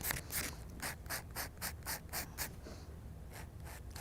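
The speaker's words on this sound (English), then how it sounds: "Is I just gonna buff one direction down" Buffing a fingernail with a nail buffer during a dipping powder manicure, a quiet close scratchy rasp in about a dozen rapid, evenly spaced strokes, then a short pause and a few more.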